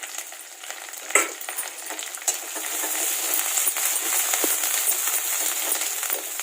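Onions and fresh curry leaves fry in a pan with a continuous, close crackling sizzle, punctuated by a few sharp clinks of a utensil against the pan.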